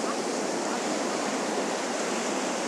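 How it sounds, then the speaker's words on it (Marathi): Continuous broad rush of surf, steady and loud, like foamy waves breaking on the shore at Ganpatipule beach without pause. "त्या ठिकाणी खूपच गर्दी आहे वॉटर स्पोर्ट ॲक्टिव्हिटीसाठी आणि फेसाळ अशा लाटा येत आहेत"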